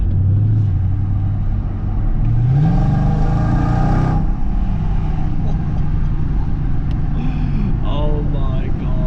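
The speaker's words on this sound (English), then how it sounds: "that is what an AMG should sound like" A Mercedes CLS55 AMG engine growls loudly and revs hard under acceleration with the traction control off, its pitch climbing sharply before settling into a deep rumbling cruise.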